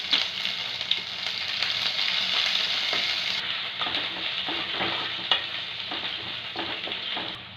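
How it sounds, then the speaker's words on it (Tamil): Mustard seeds and curry leaves sizzle in hot oil, a loud bright crackling hiss that settles slightly partway through and is punctuated by small pops and clicks. "எண்ணெய் சூடாகட்டும். கடுகு போட்டுக்கலாம். கருவேப்பிலை போட்டுக்கலாம்."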